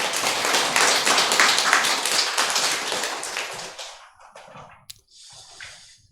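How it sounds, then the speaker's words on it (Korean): A congregation applauds during a Sunday church service, a dense burst of clapping for several seconds that quickly dies away into a few last scattered claps and near silence. "우리 하나님께 영광의 박수 올려드리겠습니다."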